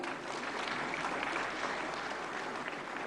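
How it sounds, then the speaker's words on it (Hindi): Audience applause at the 68th National Film Awards ceremony, a steady dense wash of clapping from a large hall crowd, fairly quiet and even throughout with no voices over it. "जोरदार तालियां।"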